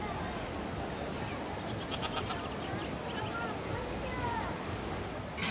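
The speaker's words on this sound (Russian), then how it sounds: "Смотрите, козел или коза. Это коза или козел?" Goat bleating outdoors in a park near a river crossing, a few wavering calls rising over steady background noise and distant voices.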